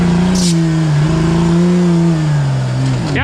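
An off-road truck at the Tuff Truck event revs hard up close, its loud engine note rising and falling in pitch with strong harmonics, ending in a quick high squeal as it drives on.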